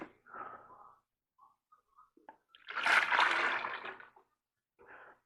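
Thick 2:1 sugar syrup for honeybees poured into a container, a sustained splashing, sloshing pour of about a second and a half near the middle, with brief clinks before and a short splash at the end.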